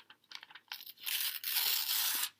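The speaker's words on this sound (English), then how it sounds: "I'm going to rip my tracing paper" A sheet of tracing paper is ripped by hand, close up and quiet, with a few small crinkles and tugs first and then one long, steady tear.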